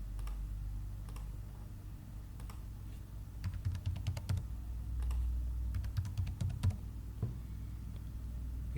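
Typing on a computer keyboard to fill in a website sign-up form: faint, irregular clusters of key clicks over a low steady hum, growing busier toward the middle, with no talking.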